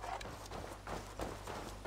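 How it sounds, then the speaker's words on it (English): Horse hooves from the Assassin's Creed Valhalla video game, a steady clip-clop of walking steps under a constant low game hum, moderately close and fairly quiet. "No, that's a horse."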